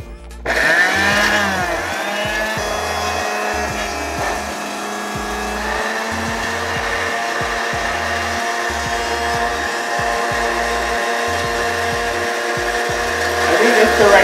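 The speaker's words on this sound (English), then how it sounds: "Luckily, we have a super blender." A countertop blender whirs continuously at high power, grinding a thick ají de gallina paste for the Peruvian comfort dish; the motor hum stays steady and close for the whole stretch with slight shifts in load, and no one talks over it.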